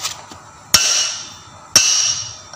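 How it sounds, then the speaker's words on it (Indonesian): A hammer strikes a pipe to knock out the universal joint on a Mitsubishi Strada: two loud metallic blows about a second apart, each ringing and fading, heard close with no talking. "Mulai caranya pakai palu cari pipa yang pas."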